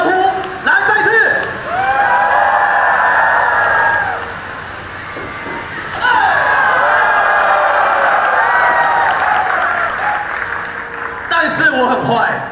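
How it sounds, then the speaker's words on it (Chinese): Crowd at a professional wrestling show during an esports carnival cheering loudly in two long sustained swells, with a brief dip between them and a voice speaking over the noise near the end. "请大家给他一个大声的欢呼"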